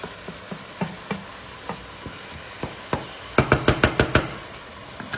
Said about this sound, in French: je casse la viande pour qu'elle soit en petits morceaux et que la cuisson soit bien homogène